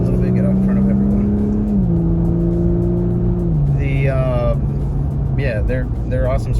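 An Audi B9 S4 with an 034 Stage 2 tune and lowering springs pulls hard through traffic. Its loud engine note steps down in pitch at each shift, and a voice speaks briefly near the end.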